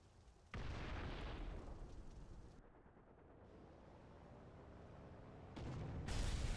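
A tank blows up in the War Thunder combat game: an abrupt, loud explosive burst that settles into a low rumbling roar, then a second surge of booming noise near the end.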